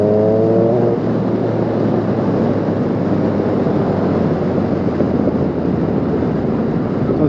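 A Yamaha MT-09 motorcycle with quickshifter and an Arrow exhaust gives a brief tonal engine rev, then a loud, steady roar of riding noise and rushing wind that carries to the end.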